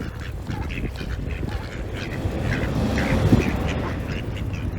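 Ducks quack repeatedly at close range beside a moored canal narrowboat, a busy, hungry flock chattering steadily under faint background noise.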